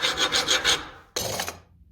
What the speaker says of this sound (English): If I scrape the surface with a file, I can see a band of colors slowly creeping up